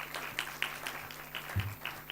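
An audience applauds at a World Intellectual Property Day celebration, steady soft clapping from a room of people, moderately distant and fairly quiet.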